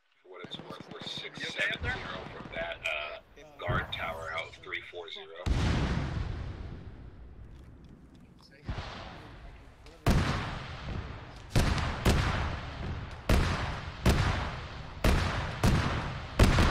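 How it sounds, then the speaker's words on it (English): An enemy Bradley armoured vehicle on a hilltop fires in ArmA 3. After some radio-like talk, sharp booming cannon shots ring out one after another, with a few long gaps and then a quicker run of loud rounds. "There's an enemy Bradley, bearing 23A on top of the hill shooting at us."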